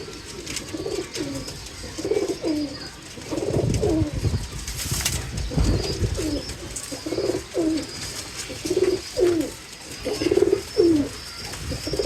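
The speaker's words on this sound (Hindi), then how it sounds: "ये जो विशाल भाई आपको कबूतर दिखा रहे हैं" Pigeons coo repeatedly from a loft setup, soft rolling calls coming in steady bursts close by, with a brief flutter of wings in the middle and no talk over them.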